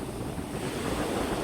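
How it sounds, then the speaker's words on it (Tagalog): Strong waves surge and wash steadily onto a beach where fishing boats are landing, with wind buffeting the microphone throughout and no voices present. "Ay lakas ng alon."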